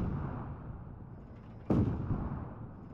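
A single sharp gunshot blast in the video game Arma 3, over a low, steady background rumble, loud and close, then fading.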